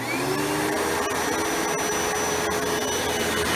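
A Kenmore Progressive 100 vacuum cleaner runs with a loud, steady motor whine and airflow roar that holds throughout, close by and alone.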